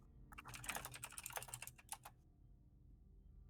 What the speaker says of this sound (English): Furious typewriter.